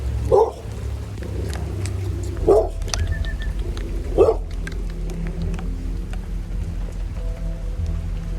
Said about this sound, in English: Not a good sign, we got a dog barking at us.